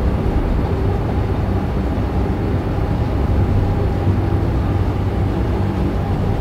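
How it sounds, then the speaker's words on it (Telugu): A train on the Jungfrau railway in the Swiss Alps rolls by with a steady, continuous low rumble and mechanical hum, loud and unbroken, with no voices. "ట్రైన్ చూపిస్తోంది"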